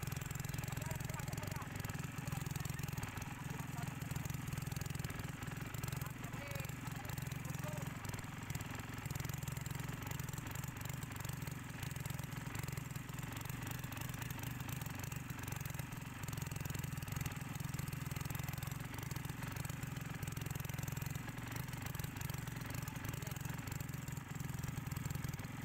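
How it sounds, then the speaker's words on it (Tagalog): A boat motor idles at sea as it nears a hut on the water, giving a steady, low, throbbing drone that holds unbroken and fairly quiet throughout. "Ipatay na ni kuya ang iyang motor kay dunggo nami sa payag."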